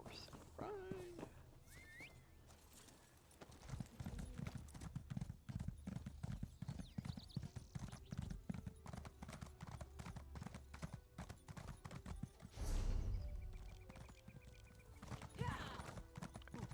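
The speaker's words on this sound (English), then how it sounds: "let's get on our horse and ride" Horse hooves clip-clop steadily as a mount is ridden in a video game, a continuous rhythmic trotting beat with a brief louder burst near the end, under sparse game ambience.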